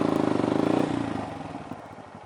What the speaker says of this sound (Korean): 다시 클러치 레버를 놓으면서 스로틀을 감아주는 거예요.